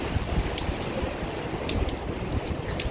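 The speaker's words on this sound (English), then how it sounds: "that big noise is the waves" Sea waves lapping at the shore down a narrow alley in Clare, a steady close rushing wash mixed with falling rain and scattered bright drips; no voices.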